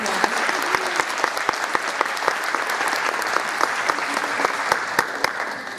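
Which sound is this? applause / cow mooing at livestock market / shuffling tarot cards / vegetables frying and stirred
applause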